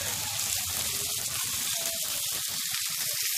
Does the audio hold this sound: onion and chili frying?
yes